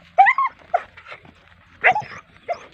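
A dog barks close by in a quiet outdoor setting, giving a few short, sharp barks in two pairs with pauses between them.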